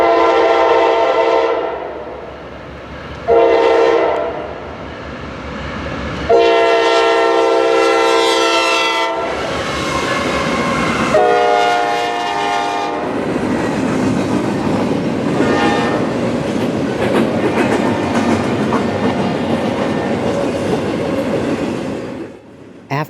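Locomotive 269 with a raised-letter Nathan K5LA horn passing on the Cleveland Line, several loud sustained chord blasts near and strong, then the roar and rhythmic clickety-clack of the train rolling by, with no talking.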